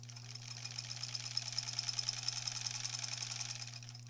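A sewing machine stitches quilt blocks in a quilt-as-you-go project, a rapid, even mechanical patter with a low steady motor hum, running continuously close by.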